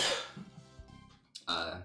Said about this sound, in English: I'm not gonna plan to mute my COVID cough.